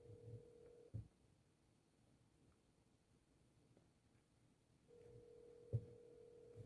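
A phone call rings out unanswered: a steady electronic ring tone pulses twice, near and clear, separated by a long quiet gap, with faint handling clicks in between.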